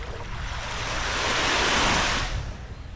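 Surf washes in on Deep Bay Beach in Antigua, one broad wave swelling to a loud hiss and then receding, heard close with some wind noise over the microphone.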